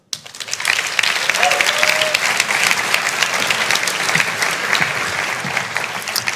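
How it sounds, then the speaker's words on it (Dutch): Sustained audience applause fills a podcast awards ceremony, a dense, steady wash of clapping from a large crowd that starts abruptly and holds at full strength throughout without fading. "groot applaus voor Mischa Blok."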